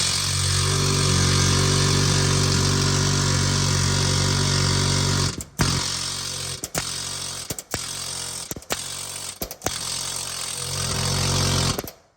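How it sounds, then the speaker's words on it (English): A loud pneumatic air hammer chatters continuously against a bus kingpin, then stops and restarts in several short bursts separated by brief pauses. "We always try the air hammer first"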